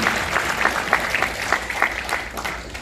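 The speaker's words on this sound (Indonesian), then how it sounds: "Mari kita tepuk tangan bersama ya." An audience applauds a speaker at a motivational talk, a moderate scattered clapping that keeps a steady, slightly uneven rhythm for a few seconds, heard from within the room.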